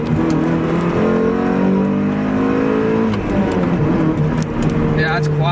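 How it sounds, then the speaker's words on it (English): A Miata fitted with a CorkSport catback exhaust and X-Force headers revs loudly and close by through a series of downshifts, the engine note rising and falling in sustained throaty pulls, with a voice talking faintly underneath. "we'll do some downshifts."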